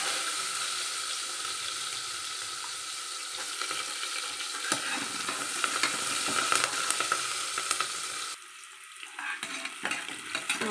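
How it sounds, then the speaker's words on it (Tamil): Onions sautéing in a pan for tomato rice give a steady broadband sizzle with occasional stirring scrapes; the frying quiets and thins out near the end, and no one speaks. "வெங்காயத்தை போட்டுக்கலாம். நல்லா வதங்கட்டும்."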